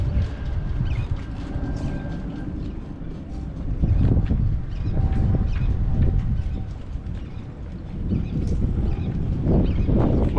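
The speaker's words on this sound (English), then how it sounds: "You can see how windy it is today." Strong wind blows outdoors, making a continuous rumbling buffet with gusts that swell and fade across the whole stretch, close to the microphone, with faint bird calls and no talk.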